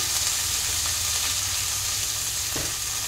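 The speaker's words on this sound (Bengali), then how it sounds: "আদাটা জাস্ট একটু নাড়াচাড়া দিয়ে নেব" Ginger stirred and sautéed in a hot pan makes a loud, continuous frying sizzle with soft scraping stir strokes, close and alone with no talking.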